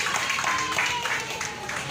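Applause at a family first-birthday gathering with prayer, many hands clapping in a dense, steady patter from a nearby crowd, with voices mixed in.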